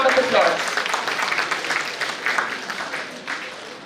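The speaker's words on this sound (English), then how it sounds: "Students, give a big round of applause." Students applaud at a national seminar, a steady wash of clapping that holds for several seconds with faint voices mixed in.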